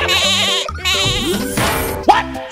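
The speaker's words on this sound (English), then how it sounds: "Goat." A cartoon goat bleats loudly in two long wavering calls, close and clear, followed by a short rising squeal-like sound.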